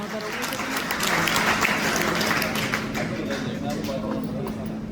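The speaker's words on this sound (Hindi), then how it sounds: "तो चाहूंगा इसके लिए एक जोरदार तालियां।" Audience applause at a talk or presentation, a steady wash of many hands clapping that holds at an even level for about five seconds, with some voices mixed in.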